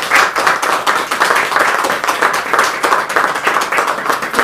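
Loud, sustained applause from an audience at a press conference in Ushuaia, dense rapid clapping from many hands filling the room evenly, close and continuous without talking.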